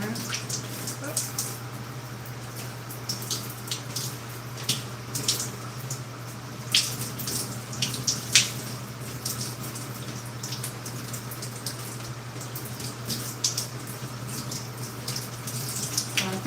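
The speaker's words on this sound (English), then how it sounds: "I think I'll go ahead and rinse it for the full 10 minutes." Steady running water from a shower or tap while product is rinsed out of curly hair, a continuous broadband hiss with small splashing bursts and a low hum underneath, no speech.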